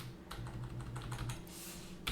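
Typing on a computer keyboard while renaming a field in Unreal Engine 5, a run of quick, steady keystrokes at close range under a constant low hum, ending in one slightly louder tap.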